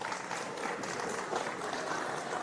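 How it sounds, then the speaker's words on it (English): A crowd applauds steadily at a futsal match in the Hawkesbury PCYC indoor hall during the Futsal State Championships, a dense, continuous wash of clapping that stays even throughout. "with the applause ringing out around Hawkesbury PCYC"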